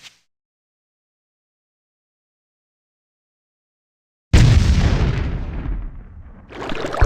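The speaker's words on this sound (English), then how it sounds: "Oh, that was deserving of fireworks" Fireworks go off in the online role-playing game Ultima Online after a casino win: after a long silence a sudden loud burst erupts, then a crackling, hissing tail fades and rises again with another burst.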